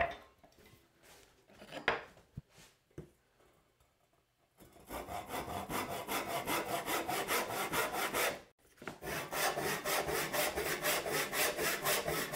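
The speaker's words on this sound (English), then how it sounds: "let's just go ahead and saw this shoulder." After a few light taps and handling knocks, a hand saw cuts a tenon shoulder in wood with steady back-and-forth strokes, close and loud, with one brief pause partway through.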